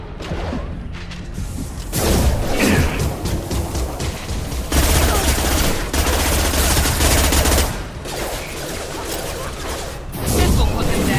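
Sustained Mass Effect video game gunfire, dense bursts of automatic shots and blasts running throughout, loud and close, surging in waves with brief lulls, mixed with faint combat voices.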